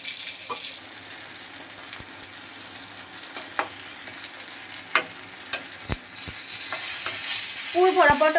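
Stuffed pointed gourd (potol) with mustard fries in a pan, a bright steady sizzle throughout with occasional utensil taps and scrapes, close and fairly loud.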